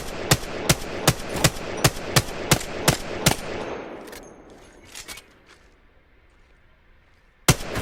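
Single shots from a weapon on single fire in Apex Legends, cracking in a steady, evenly spaced series of about nine loud reports, then a pause with a couple of softer sounds and one final sharp shot at the end.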